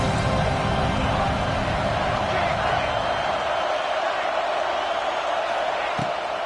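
A football stadium crowd roars in a steady, loud, dense wash of cheering and noise that holds throughout without letting up.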